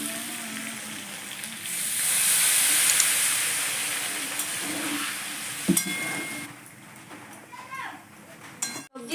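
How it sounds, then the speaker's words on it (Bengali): Water poured into a pan of sizzling sautéed vegetables and nuts, a loud rising hiss and steam that swells early then settles into steady frying with a few clinks near the end, with speech over it. "আমার সবজিগুলো কষা হয়ে গেছে এবার আমি জল দিয়ে দেবো"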